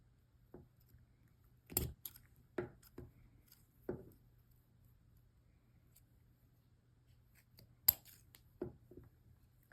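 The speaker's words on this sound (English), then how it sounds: "So now I can just cut them at these little bends." Scissors snip through pieces of a DNA model at their bends, giving a handful of sharp, separate cuts close by with quiet gaps between them and no talking.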